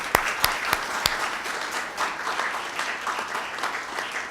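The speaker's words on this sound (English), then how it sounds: "I'd like to give Elaine a round of applause" A lecture audience bursts into applause: a few sharp claps open it, then a sustained ripple of many hands carries on evenly for several seconds in a large room.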